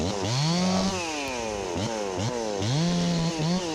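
Ported Stihl MS360 chainsaw bucking a big blown-down maple, its engine rising and falling through repeated revving cuts, loud and close with no talking.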